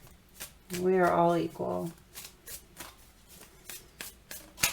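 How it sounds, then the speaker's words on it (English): Tarot cards are shuffled in quick riffling bursts, soft and close, with a voice speaking briefly near the start before the repeated card flicks continue alone. "So I got to stop shuffling. It's such a habit to shuffle."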